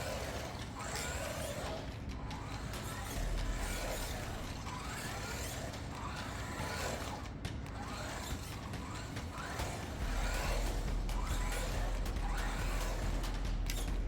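A Granite Grom RC car motor runs at 50% throttle, giving a steady mid-level whirring drone with faint mechanical texture, fairly close and alone without talk.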